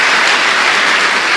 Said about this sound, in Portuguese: Dê mais uma salva de palmas ao Senhor.